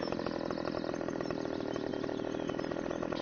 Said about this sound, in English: To drive a chainsaw through a tree,